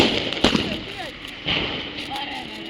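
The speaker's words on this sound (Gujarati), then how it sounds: "ફટાકડાની મોજ લઈ રહી છે, તમે જોઈ શકો છો" Two sharp firecracker bangs about a second apart, moderately close, over outdoor background noise and faint voices.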